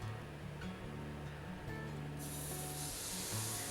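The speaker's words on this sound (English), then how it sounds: "When the appachatti is heated, add a large ladle of batter to the center." Appam batter poured into a hot appachatti pan sets off a sudden bright sizzling hiss about halfway through, following a low steady background hum, close and continuous with no talking.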